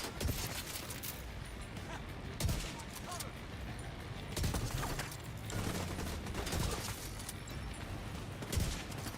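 Video game gunfire crackles in dense, repeated bursts over a constant noisy background, with scattered louder shots and faint voices in the mix.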